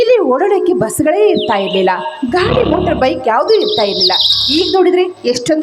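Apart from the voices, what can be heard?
birds chirping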